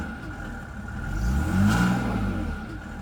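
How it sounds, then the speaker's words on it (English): Mercedes-Benz engine that had been sitting for a while with a check engine light on, revving up and settling back while the turbo spools, a steady low drone that swells in the middle. "You can hear the turbo spool,"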